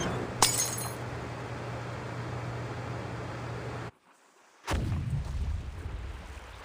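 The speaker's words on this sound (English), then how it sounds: "Sounds like some kind of explosion near the clinic." An explosion in the video game Reverse: 1999 starts with a sharp crack over a steady hum, then the sound drops to near silence before a second loud, booming burst with a rumbling tail.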